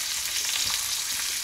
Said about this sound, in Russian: Пока жарится рыба